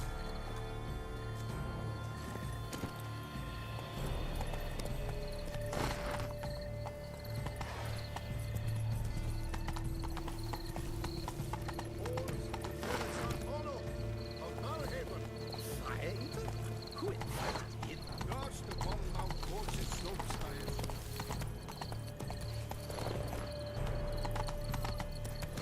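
Rhythmic hoofbeats of a horse clip-clop steadily alongside in-game music and ambience in The Witcher 3, with a neigh rising once midway and a voice speaking over part of it.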